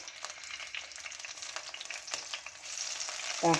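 Tomato dropped into a frying fish curry base in a pan, a soft crackling sizzle with light stirring scrapes, rising into a louder clatter right at the end, close and fairly quiet.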